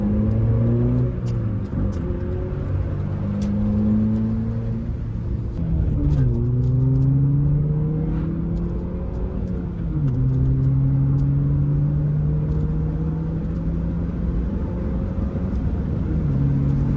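Ford Fiesta Mk5 Zetec S petrol engine accelerating through the gears while driving, a steady mid-pitched drone that climbs, drops at each shift around two and six seconds, then rises again, heard continuously from inside the car.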